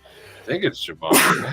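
A single loud, sharp sneeze bursts out right after a short stretch of nearby talk.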